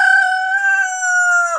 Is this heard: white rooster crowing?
yes